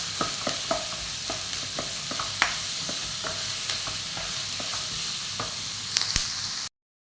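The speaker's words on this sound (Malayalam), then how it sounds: "ഇനി ഈ സവാള നന്നായൊന്ന് വാടി വരണം അതുവരെ നമുക്ക് ഇളക്കി കൊടുക്കാം" Sliced onions with a little salt fry in a pan for egg roast, sizzling steadily while a spatula scrapes and taps through them in regular close strokes, with no voices.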